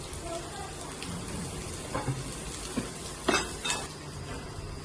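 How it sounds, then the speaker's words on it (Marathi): Chilli and ginger tossed in a frying pan, a quiet sizzle with a few clinks and scrapes of utensil against metal, brief clatters near the end. "आपण जिंजर त्याच्यामध्ये टॉस मारतोय"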